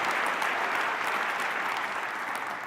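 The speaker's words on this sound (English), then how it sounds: "Please give another round of applause for the winners and the finalists" Steady applause from a conference keynote audience honoring award winners and finalists, a dense, even wash of clapping that holds at full strength throughout.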